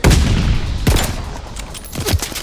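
Gunfire in the Call of Duty Vanguard beta on PS4: loud, close bursts of shots with sharp repeated cracks, clustered at the start, near one second and again around two seconds.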